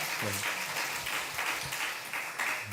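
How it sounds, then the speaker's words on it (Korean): A church congregation applauds together at a Friday night prayer service, a dense, sustained wash of clapping filling the room, with a faint voice mixed underneath. "하나님께 감사와 영광의 박수를 올려드립니다."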